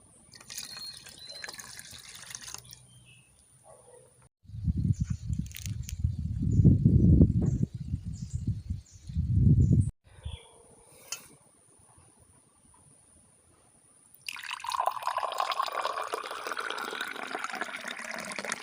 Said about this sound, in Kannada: ಇನ್ನು 2 ಗ್ಲಾಸ್ ಆಗುವಷ್ಟು ನೀರನ್ನು ಇದಕ್ಕೆ ಆ್ಯಡ್ ಮಾಡಿಕೊಳ್ಬೇಕು.